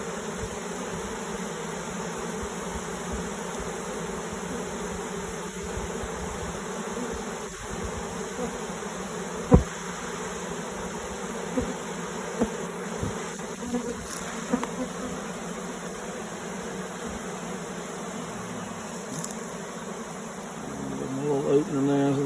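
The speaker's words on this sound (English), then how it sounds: "we dumped the bees out. They are flying everywhere right now," A swarm of honeybees buzzes loudly and steadily all around after being dumped from a hive during a removal in an old barn, with a few brief knocks and a voice speaking over the drone.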